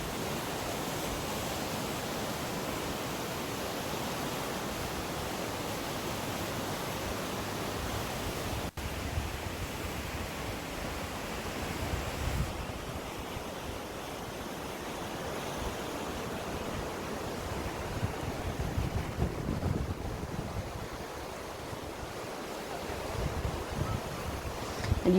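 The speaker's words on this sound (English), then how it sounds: "you can see just how windy it was at times today" Strong wind gusts steadily across an open riverside park in Newtown, Powys, Wales, a constant loud roar of rushing air and microphone buffeting that swells and eases slightly throughout.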